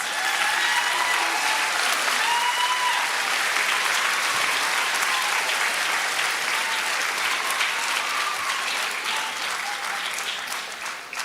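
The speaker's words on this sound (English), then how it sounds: "let's give them a round of applause, another round of applause" A large commencement audience applauds parents, families and friends of the graduates, a dense, steady roar of clapping that fills the whole stretch and tapers slightly at the end, with faint crowd murmur beneath.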